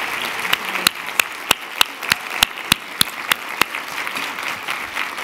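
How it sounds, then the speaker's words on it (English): A conference audience applauds a host at a closing session, a steady wash of many hands clapping with sharp individual claps standing out at a brisk, even rhythm throughout. "Can we give Femi a round of applause?"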